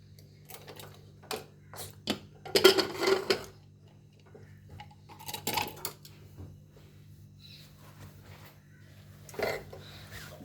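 A pressure cooker holding cooked black chickpeas is opened, with close metallic clicks and clanks of the lid and a couple of louder rattling bursts among scattered faint taps over a low hum.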